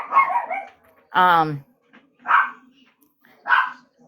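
A puppy barks and yips in three short, loud bursts spaced about a second apart in a quiet room, after someone briefly speaks.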